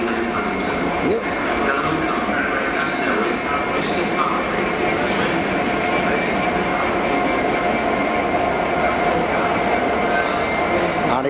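A train rolling through Cardiff station, a loud continuous rumble with wheel squeal and steady rail noise, close by, sustained throughout.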